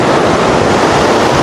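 Ocean waves at a Sydney beach give a loud, constant roar of surf, with wind rumbling against the microphone and no voices.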